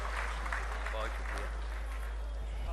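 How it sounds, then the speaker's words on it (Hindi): Applause from a poetry mushaira audience in Hyderabad, a broad steady wash of clapping sustained throughout at moderate loudness, with a voice speaking faintly underneath. "आपकी भरपूर तालियों के बीच, आपके इस्तकबाल के बीच"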